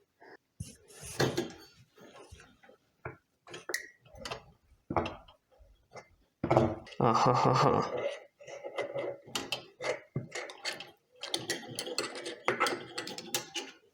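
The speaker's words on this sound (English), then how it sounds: "I'm going to try with a screwdriver right now." A screwdriver works a new wick through the burner of a kerosene lantern, giving busy clicking, scraping and ratcheting metal sounds in irregular bursts, with one louder grinding stretch midway, close up and without speech.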